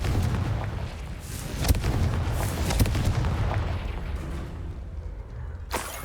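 Confringo spell blasts in Hogwarts Legacy, several booming explosions with sharp cracks at irregular intervals over a rumbling game soundscape.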